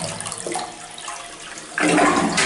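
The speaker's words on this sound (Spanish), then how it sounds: "funcionando la descarga" A Corona toilet flushes in an apartment bathroom, a soft gurgle building into a loud rushing surge of water near the end.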